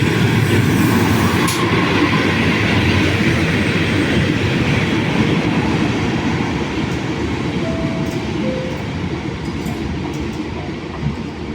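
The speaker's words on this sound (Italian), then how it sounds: "Il treno Rail 81 di Trenord delle ore 14:27, proveniente da Monaco di Baviera, è in arrivo al binario 3." A train rumbles through Padova railway station in Italy, loud and close, with a continuous heavy rolling roar, wheel clatter and occasional squeals that ease slightly toward the end, with no talk over it.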